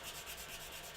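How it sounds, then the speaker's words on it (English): Steady abrasive rubbing of a sanding stick worked back and forth across a plastic model aircraft wing, a continuous close scratchy hiss with gentle rhythmic swells and no talk. "we're just sanding over the wing, just like this"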